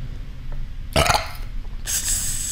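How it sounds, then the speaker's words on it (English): Two loud, close burps after drinking ginger ale, each a short rough eructation separated by about a second of quiet. "The burps are real, guys."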